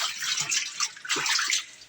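Water sloshes as clothes are agitated by hand in a tub of dirty, blackened wash water, making steady splashing, fairly close, with no voices.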